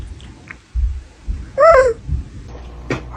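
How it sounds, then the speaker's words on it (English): A small kitten gives a single short, rising-then-falling meow at close range, mid-clip, surrounded by quiet rustling and faint handling noises. "Look at this little kitten."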